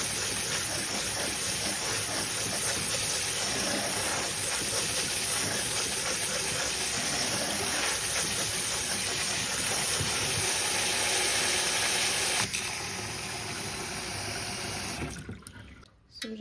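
Cold water from a tap runs steadily over cooked spaghetti in a sink, a loud, continuous hissing gush that tapers off and stops near the end.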